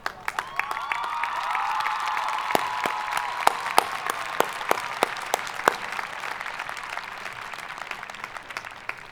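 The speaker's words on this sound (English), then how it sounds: "I would love to have Desiree and Mindy stand so we can give them a round of applause" A commencement audience breaks into sustained applause, many hands clapping close and loud for the whole stretch, with a few sharper claps standing out and faint crowd murmur beneath.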